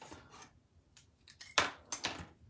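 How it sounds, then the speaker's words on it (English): Scissors cut through ribbon while a handmade card is assembled, giving a few quick, crisp snips and scraping blade strokes up close. "I'm gonna get my scissors and cut that off."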